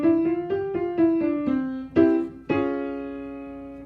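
A piano plays a short rising and falling run of single notes, then two sustained chords ring out, clear and close.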